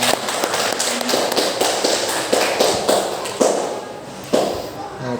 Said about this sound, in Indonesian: Oke, beri tepuk tangan untuk Mbak Rika.